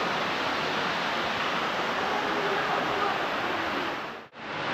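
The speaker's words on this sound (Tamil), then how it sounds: "இங்கே தண்ணி ஓடு சத்தமாக இருக்குது பாருங்கள், பயங்கரமாக." Constant heavy rush of flowing water inside an underwater tunnel aquarium in Mysore, loud and unbroken, cutting off abruptly just before the end.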